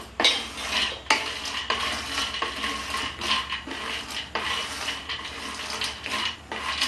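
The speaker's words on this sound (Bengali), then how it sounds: "একটু একটু করে তেল ঢালতে হবে আর বড়িটাকে নাড়তে হবে।" Lentil nuggets (bori) frying in oil in a wok are stirred with a utensil, giving repeated close scraping and clattering strokes over a soft sizzle.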